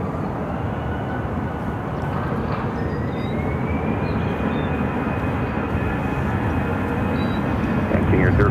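An American Airlines A319 takes off from runway 25 right at Phoenix, a steady, loud broadband jet roar with a thin rising engine whine, building slightly toward the end.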